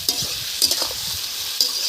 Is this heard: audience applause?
no